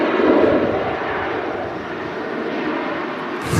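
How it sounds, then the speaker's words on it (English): A Ryanair Boeing airliner roars past at an airport, a steady broad jet rush that stays fairly loud for a few seconds. "There goes the Ryanair."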